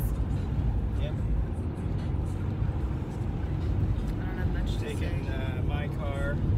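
Steady low rumble of a car driving, heard from inside the cabin, with a voice talking over the road noise throughout.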